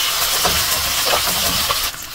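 Chicken pieces on the bone with lemongrass sizzle and fry in a pan in a Bangladeshi-style home kitchen, a steady hissing crackle held close and loud throughout, easing slightly at the very end.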